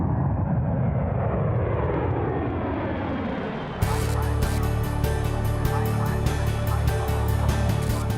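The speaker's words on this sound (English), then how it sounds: "the C-17 touches down after a 9-hour flight from Kandahar" A C-17 military transport jet lands at RAF Brize Norton in Oxfordshire after a long flight from Kandahar, its loud engine roar falling steadily in pitch before a harsh rumbling, rattling ground roll takes over, close and continuous.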